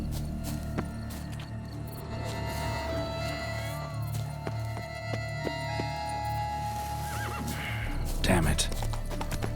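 A horse in The Witcher 3 whinnies loudly near the end, with clip-clop hooves, game music and a voice speaking over the scene.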